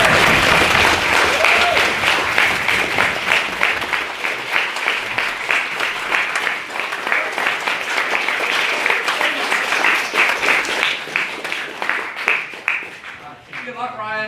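An audience at a student debate on decriminalising all drugs gives a loud, sustained round of applause after a speech. The dense clapping continues for many seconds, then thins and fades at the end as a voice begins to speak.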